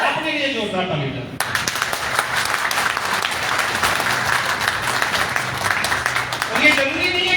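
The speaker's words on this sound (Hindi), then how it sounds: "अपने लिए जोरदार ताली बजाएं।" Loud, sustained applause fills a seminar hall in Temoor, a dense wash of many hands clapping steadily for several seconds after a voice urges the crowd on.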